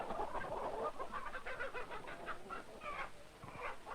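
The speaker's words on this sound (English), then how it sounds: "the hen cackled because she just laid an egg" Hens on a 1940s poultry farm cluck and cackle in a steady run of short, nasal calls, fairly close and busy, with no talk over them.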